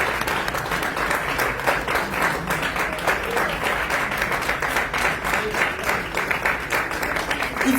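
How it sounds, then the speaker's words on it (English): Sustained audience applause at a summit award ceremony in Johannesburg, dense clapping from a large crowd holding steady throughout with some faint voices mixed in. "Sur vos applaudissements, s'il vous plaît."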